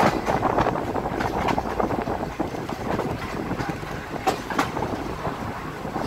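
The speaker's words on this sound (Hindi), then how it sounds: "5 बोगीज थी और जिसकी 2200 हॉर्स पावर की इंजन लगाई हुई थी" A Pakistan Railways train of five coaches, hauled by a 2200 horsepower locomotive, rolls past near Badami Bagh station, a steady rumbling rush with rhythmic clacking of wheels, loud and close throughout with some wind buffeting.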